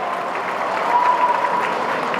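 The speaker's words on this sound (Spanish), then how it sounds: "queremos darle un fuerte aplauso también a quienes nos acompañan de América Latina" Applause from a conference audience welcoming guests from Latin America, a continuous broad wash of many hands clapping at steady volume with no voices on top.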